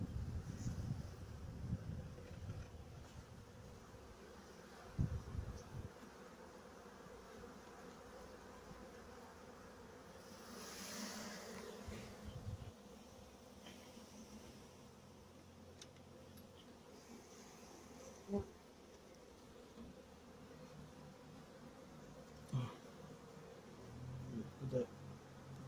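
Young honeybee buzzing close by beside a hive being prepared for the season, a faint, wavering buzz that swells and fades near the microphone, with soft wind and occasional handling bumps.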